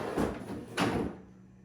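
The hood of a John Deere Select Series tractor is lowered onto its brush guard weight, giving two muffled, close knocks about half a second apart, followed by a quiet settling.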